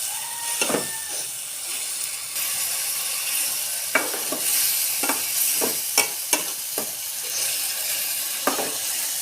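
Spices and chopped tomato sauté in a pan for a Bangladeshi egg curry, giving a steady broadband sizzle with repeated sharp scrapes and clacks of a stirring spoon. No one speaks.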